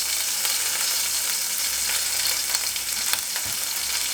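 Ginger and green chili frying in hot oil for Kerala-style rava upma, with a loud, steady close-up sizzle and faint stirring scrapes throughout, no talk.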